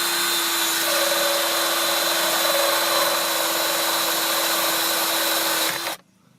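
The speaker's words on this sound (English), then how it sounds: "So we'll just quickly drill with the power auger." A power auger bores a 3/4 inch hole in a Honda CR-V to mount a switch. It gives a steady, high-pitched whine for about six seconds, then cuts off abruptly.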